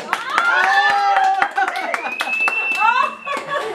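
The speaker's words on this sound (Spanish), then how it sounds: "Ese aplauso bonito para Clara, su cumpleaños." Applause at a birthday mariachi serenade, steady clapping from a small crowd heard close, with trumpet notes, laughter and talking mixed in throughout.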